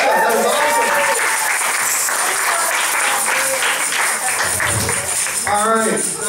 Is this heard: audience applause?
yes